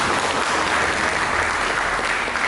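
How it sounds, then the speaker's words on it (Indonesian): A church congregation claps together in sustained, dense applause during a sermon, steady and fairly loud throughout. "Mari kita berikan tepuk tangan bagi"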